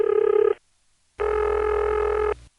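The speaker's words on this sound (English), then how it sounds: "we keep getting apparently rolling or even frequency modulating ringtones on these Type 1 sounding trunks" A telephone ringing tone on a Type 1 step-office trunk line around Harrisonburg, Virginia, recorded in 1976: a short buzzy ring burst, a silent pause, then a longer burst with a warbling, rolling modulation.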